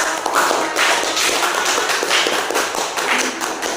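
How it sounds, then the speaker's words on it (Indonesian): A short burst of hand clapping from a class for a group's presentation fills the room, steady and lively for a few seconds before fading. "tepuk tangan untuk kelompok"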